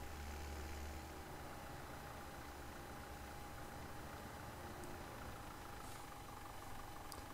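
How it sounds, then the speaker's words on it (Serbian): A farm vehicle engine in Farming Simulator 2017 runs steadily at idle, a quiet continuous drone with no talking. "Čujete motor."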